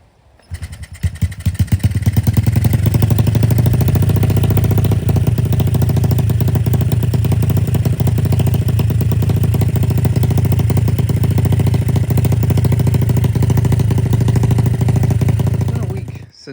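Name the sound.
Honda XR50 motorcycle engine running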